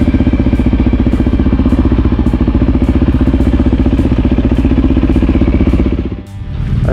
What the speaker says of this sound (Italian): Ora mi staziono qui e riprendo le moto che arrivano